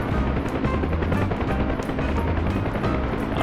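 A UH-1 Huey helicopter in a DCS Cold War mission lifts off with a dense, loud, continuous rotor and engine roar. Rapid thumping and crackling that could be gunfire blend into the din.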